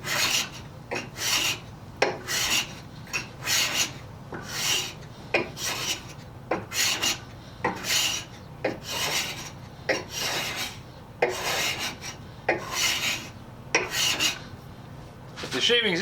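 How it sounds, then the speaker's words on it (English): Stanley No. 80 cabinet scraper drawn across wood to take off fine shavings, a series of about a dozen rasping strokes in a fairly regular rhythm, close and clear with short pauses between passes. "But this is a number 80 Stanley scraper. It takes off shavings too."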